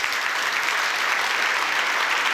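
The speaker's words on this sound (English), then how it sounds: "I think that deserves a big applause also." Audience applause at a biotechnology symposium, a dense, even wash of many hands clapping that holds at a steady level for the whole stretch with no one speaking.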